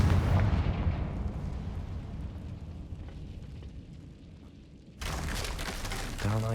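A Confringo fire spell explodes in the Hogwarts Legacy video game with a heavy, rumbling boom that slowly fades, followed by a second sharp, crackling burst near the end.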